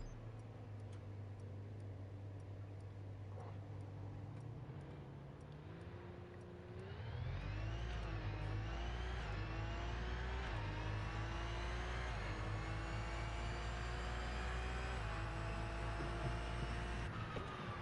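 Mustang engine in the racing game Test Drive Unlimited Solar Crown, steady at first, then revving hard and climbing through several gear shifts in a loud, sustained rising drone.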